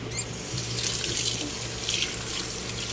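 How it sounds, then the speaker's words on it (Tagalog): Eggs are washed under a running kitchen tap, with a steady close stream of water splashing into a sink throughout. "Hugasin ko muna yung itlog."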